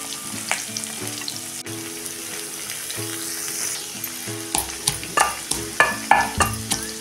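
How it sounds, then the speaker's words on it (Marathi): Onion fries in a pan over medium heat, a busy sizzle and crackle broken by spatula scrapes and clatter that grow louder and more rhythmic near the end, with no speech. "आता कांदा आपला बऱ्यापैकी परतून होत आलेला आहे।"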